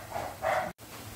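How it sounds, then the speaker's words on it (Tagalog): A dog barks once or twice in the background of a home kitchen while pork and shrimp paste cook, the short barks fairly faint over a steady backdrop of room noise. "Grabe naman yung aso."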